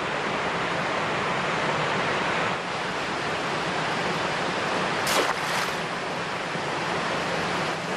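The clean Tera river in Sanabria flows with a steady, full rushing wash that stays loud and unbroken from start to finish, with a brief faint whistle partway through.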